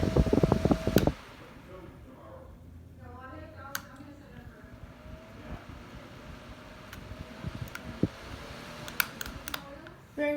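A 9-inch Polar Wind box fan runs at a higher speed, giving a faint steady airy whir close by, with a few clicks and taps, some brief talk and handling noise at the start.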